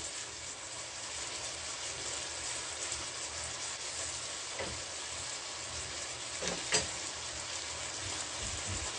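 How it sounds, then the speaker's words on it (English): Food frying in a pan during noodle cooking: a steady, faint hiss of sizzling oil that runs throughout, with a few soft clicks and taps and no talking. "we allow that to fry"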